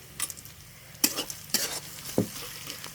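Curry with garam masala being stirred in a pot over a traditional clay stove in a village kitchen, giving a few separate scraping stirs and soft sizzles spaced out over a quiet background.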